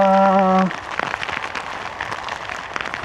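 Heavy typhoon rain drums steadily on a surface at a small farm in the Philippines, a dense hiss of drops, briefly overlapped at the start by a short tonal sound.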